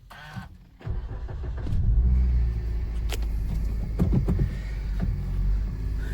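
A nine-year-old Maruti Baleno petrol car with about 130,000 km cranks and its engine catches, then settles into a steady, close low rumbling idle with a few light clicks over it.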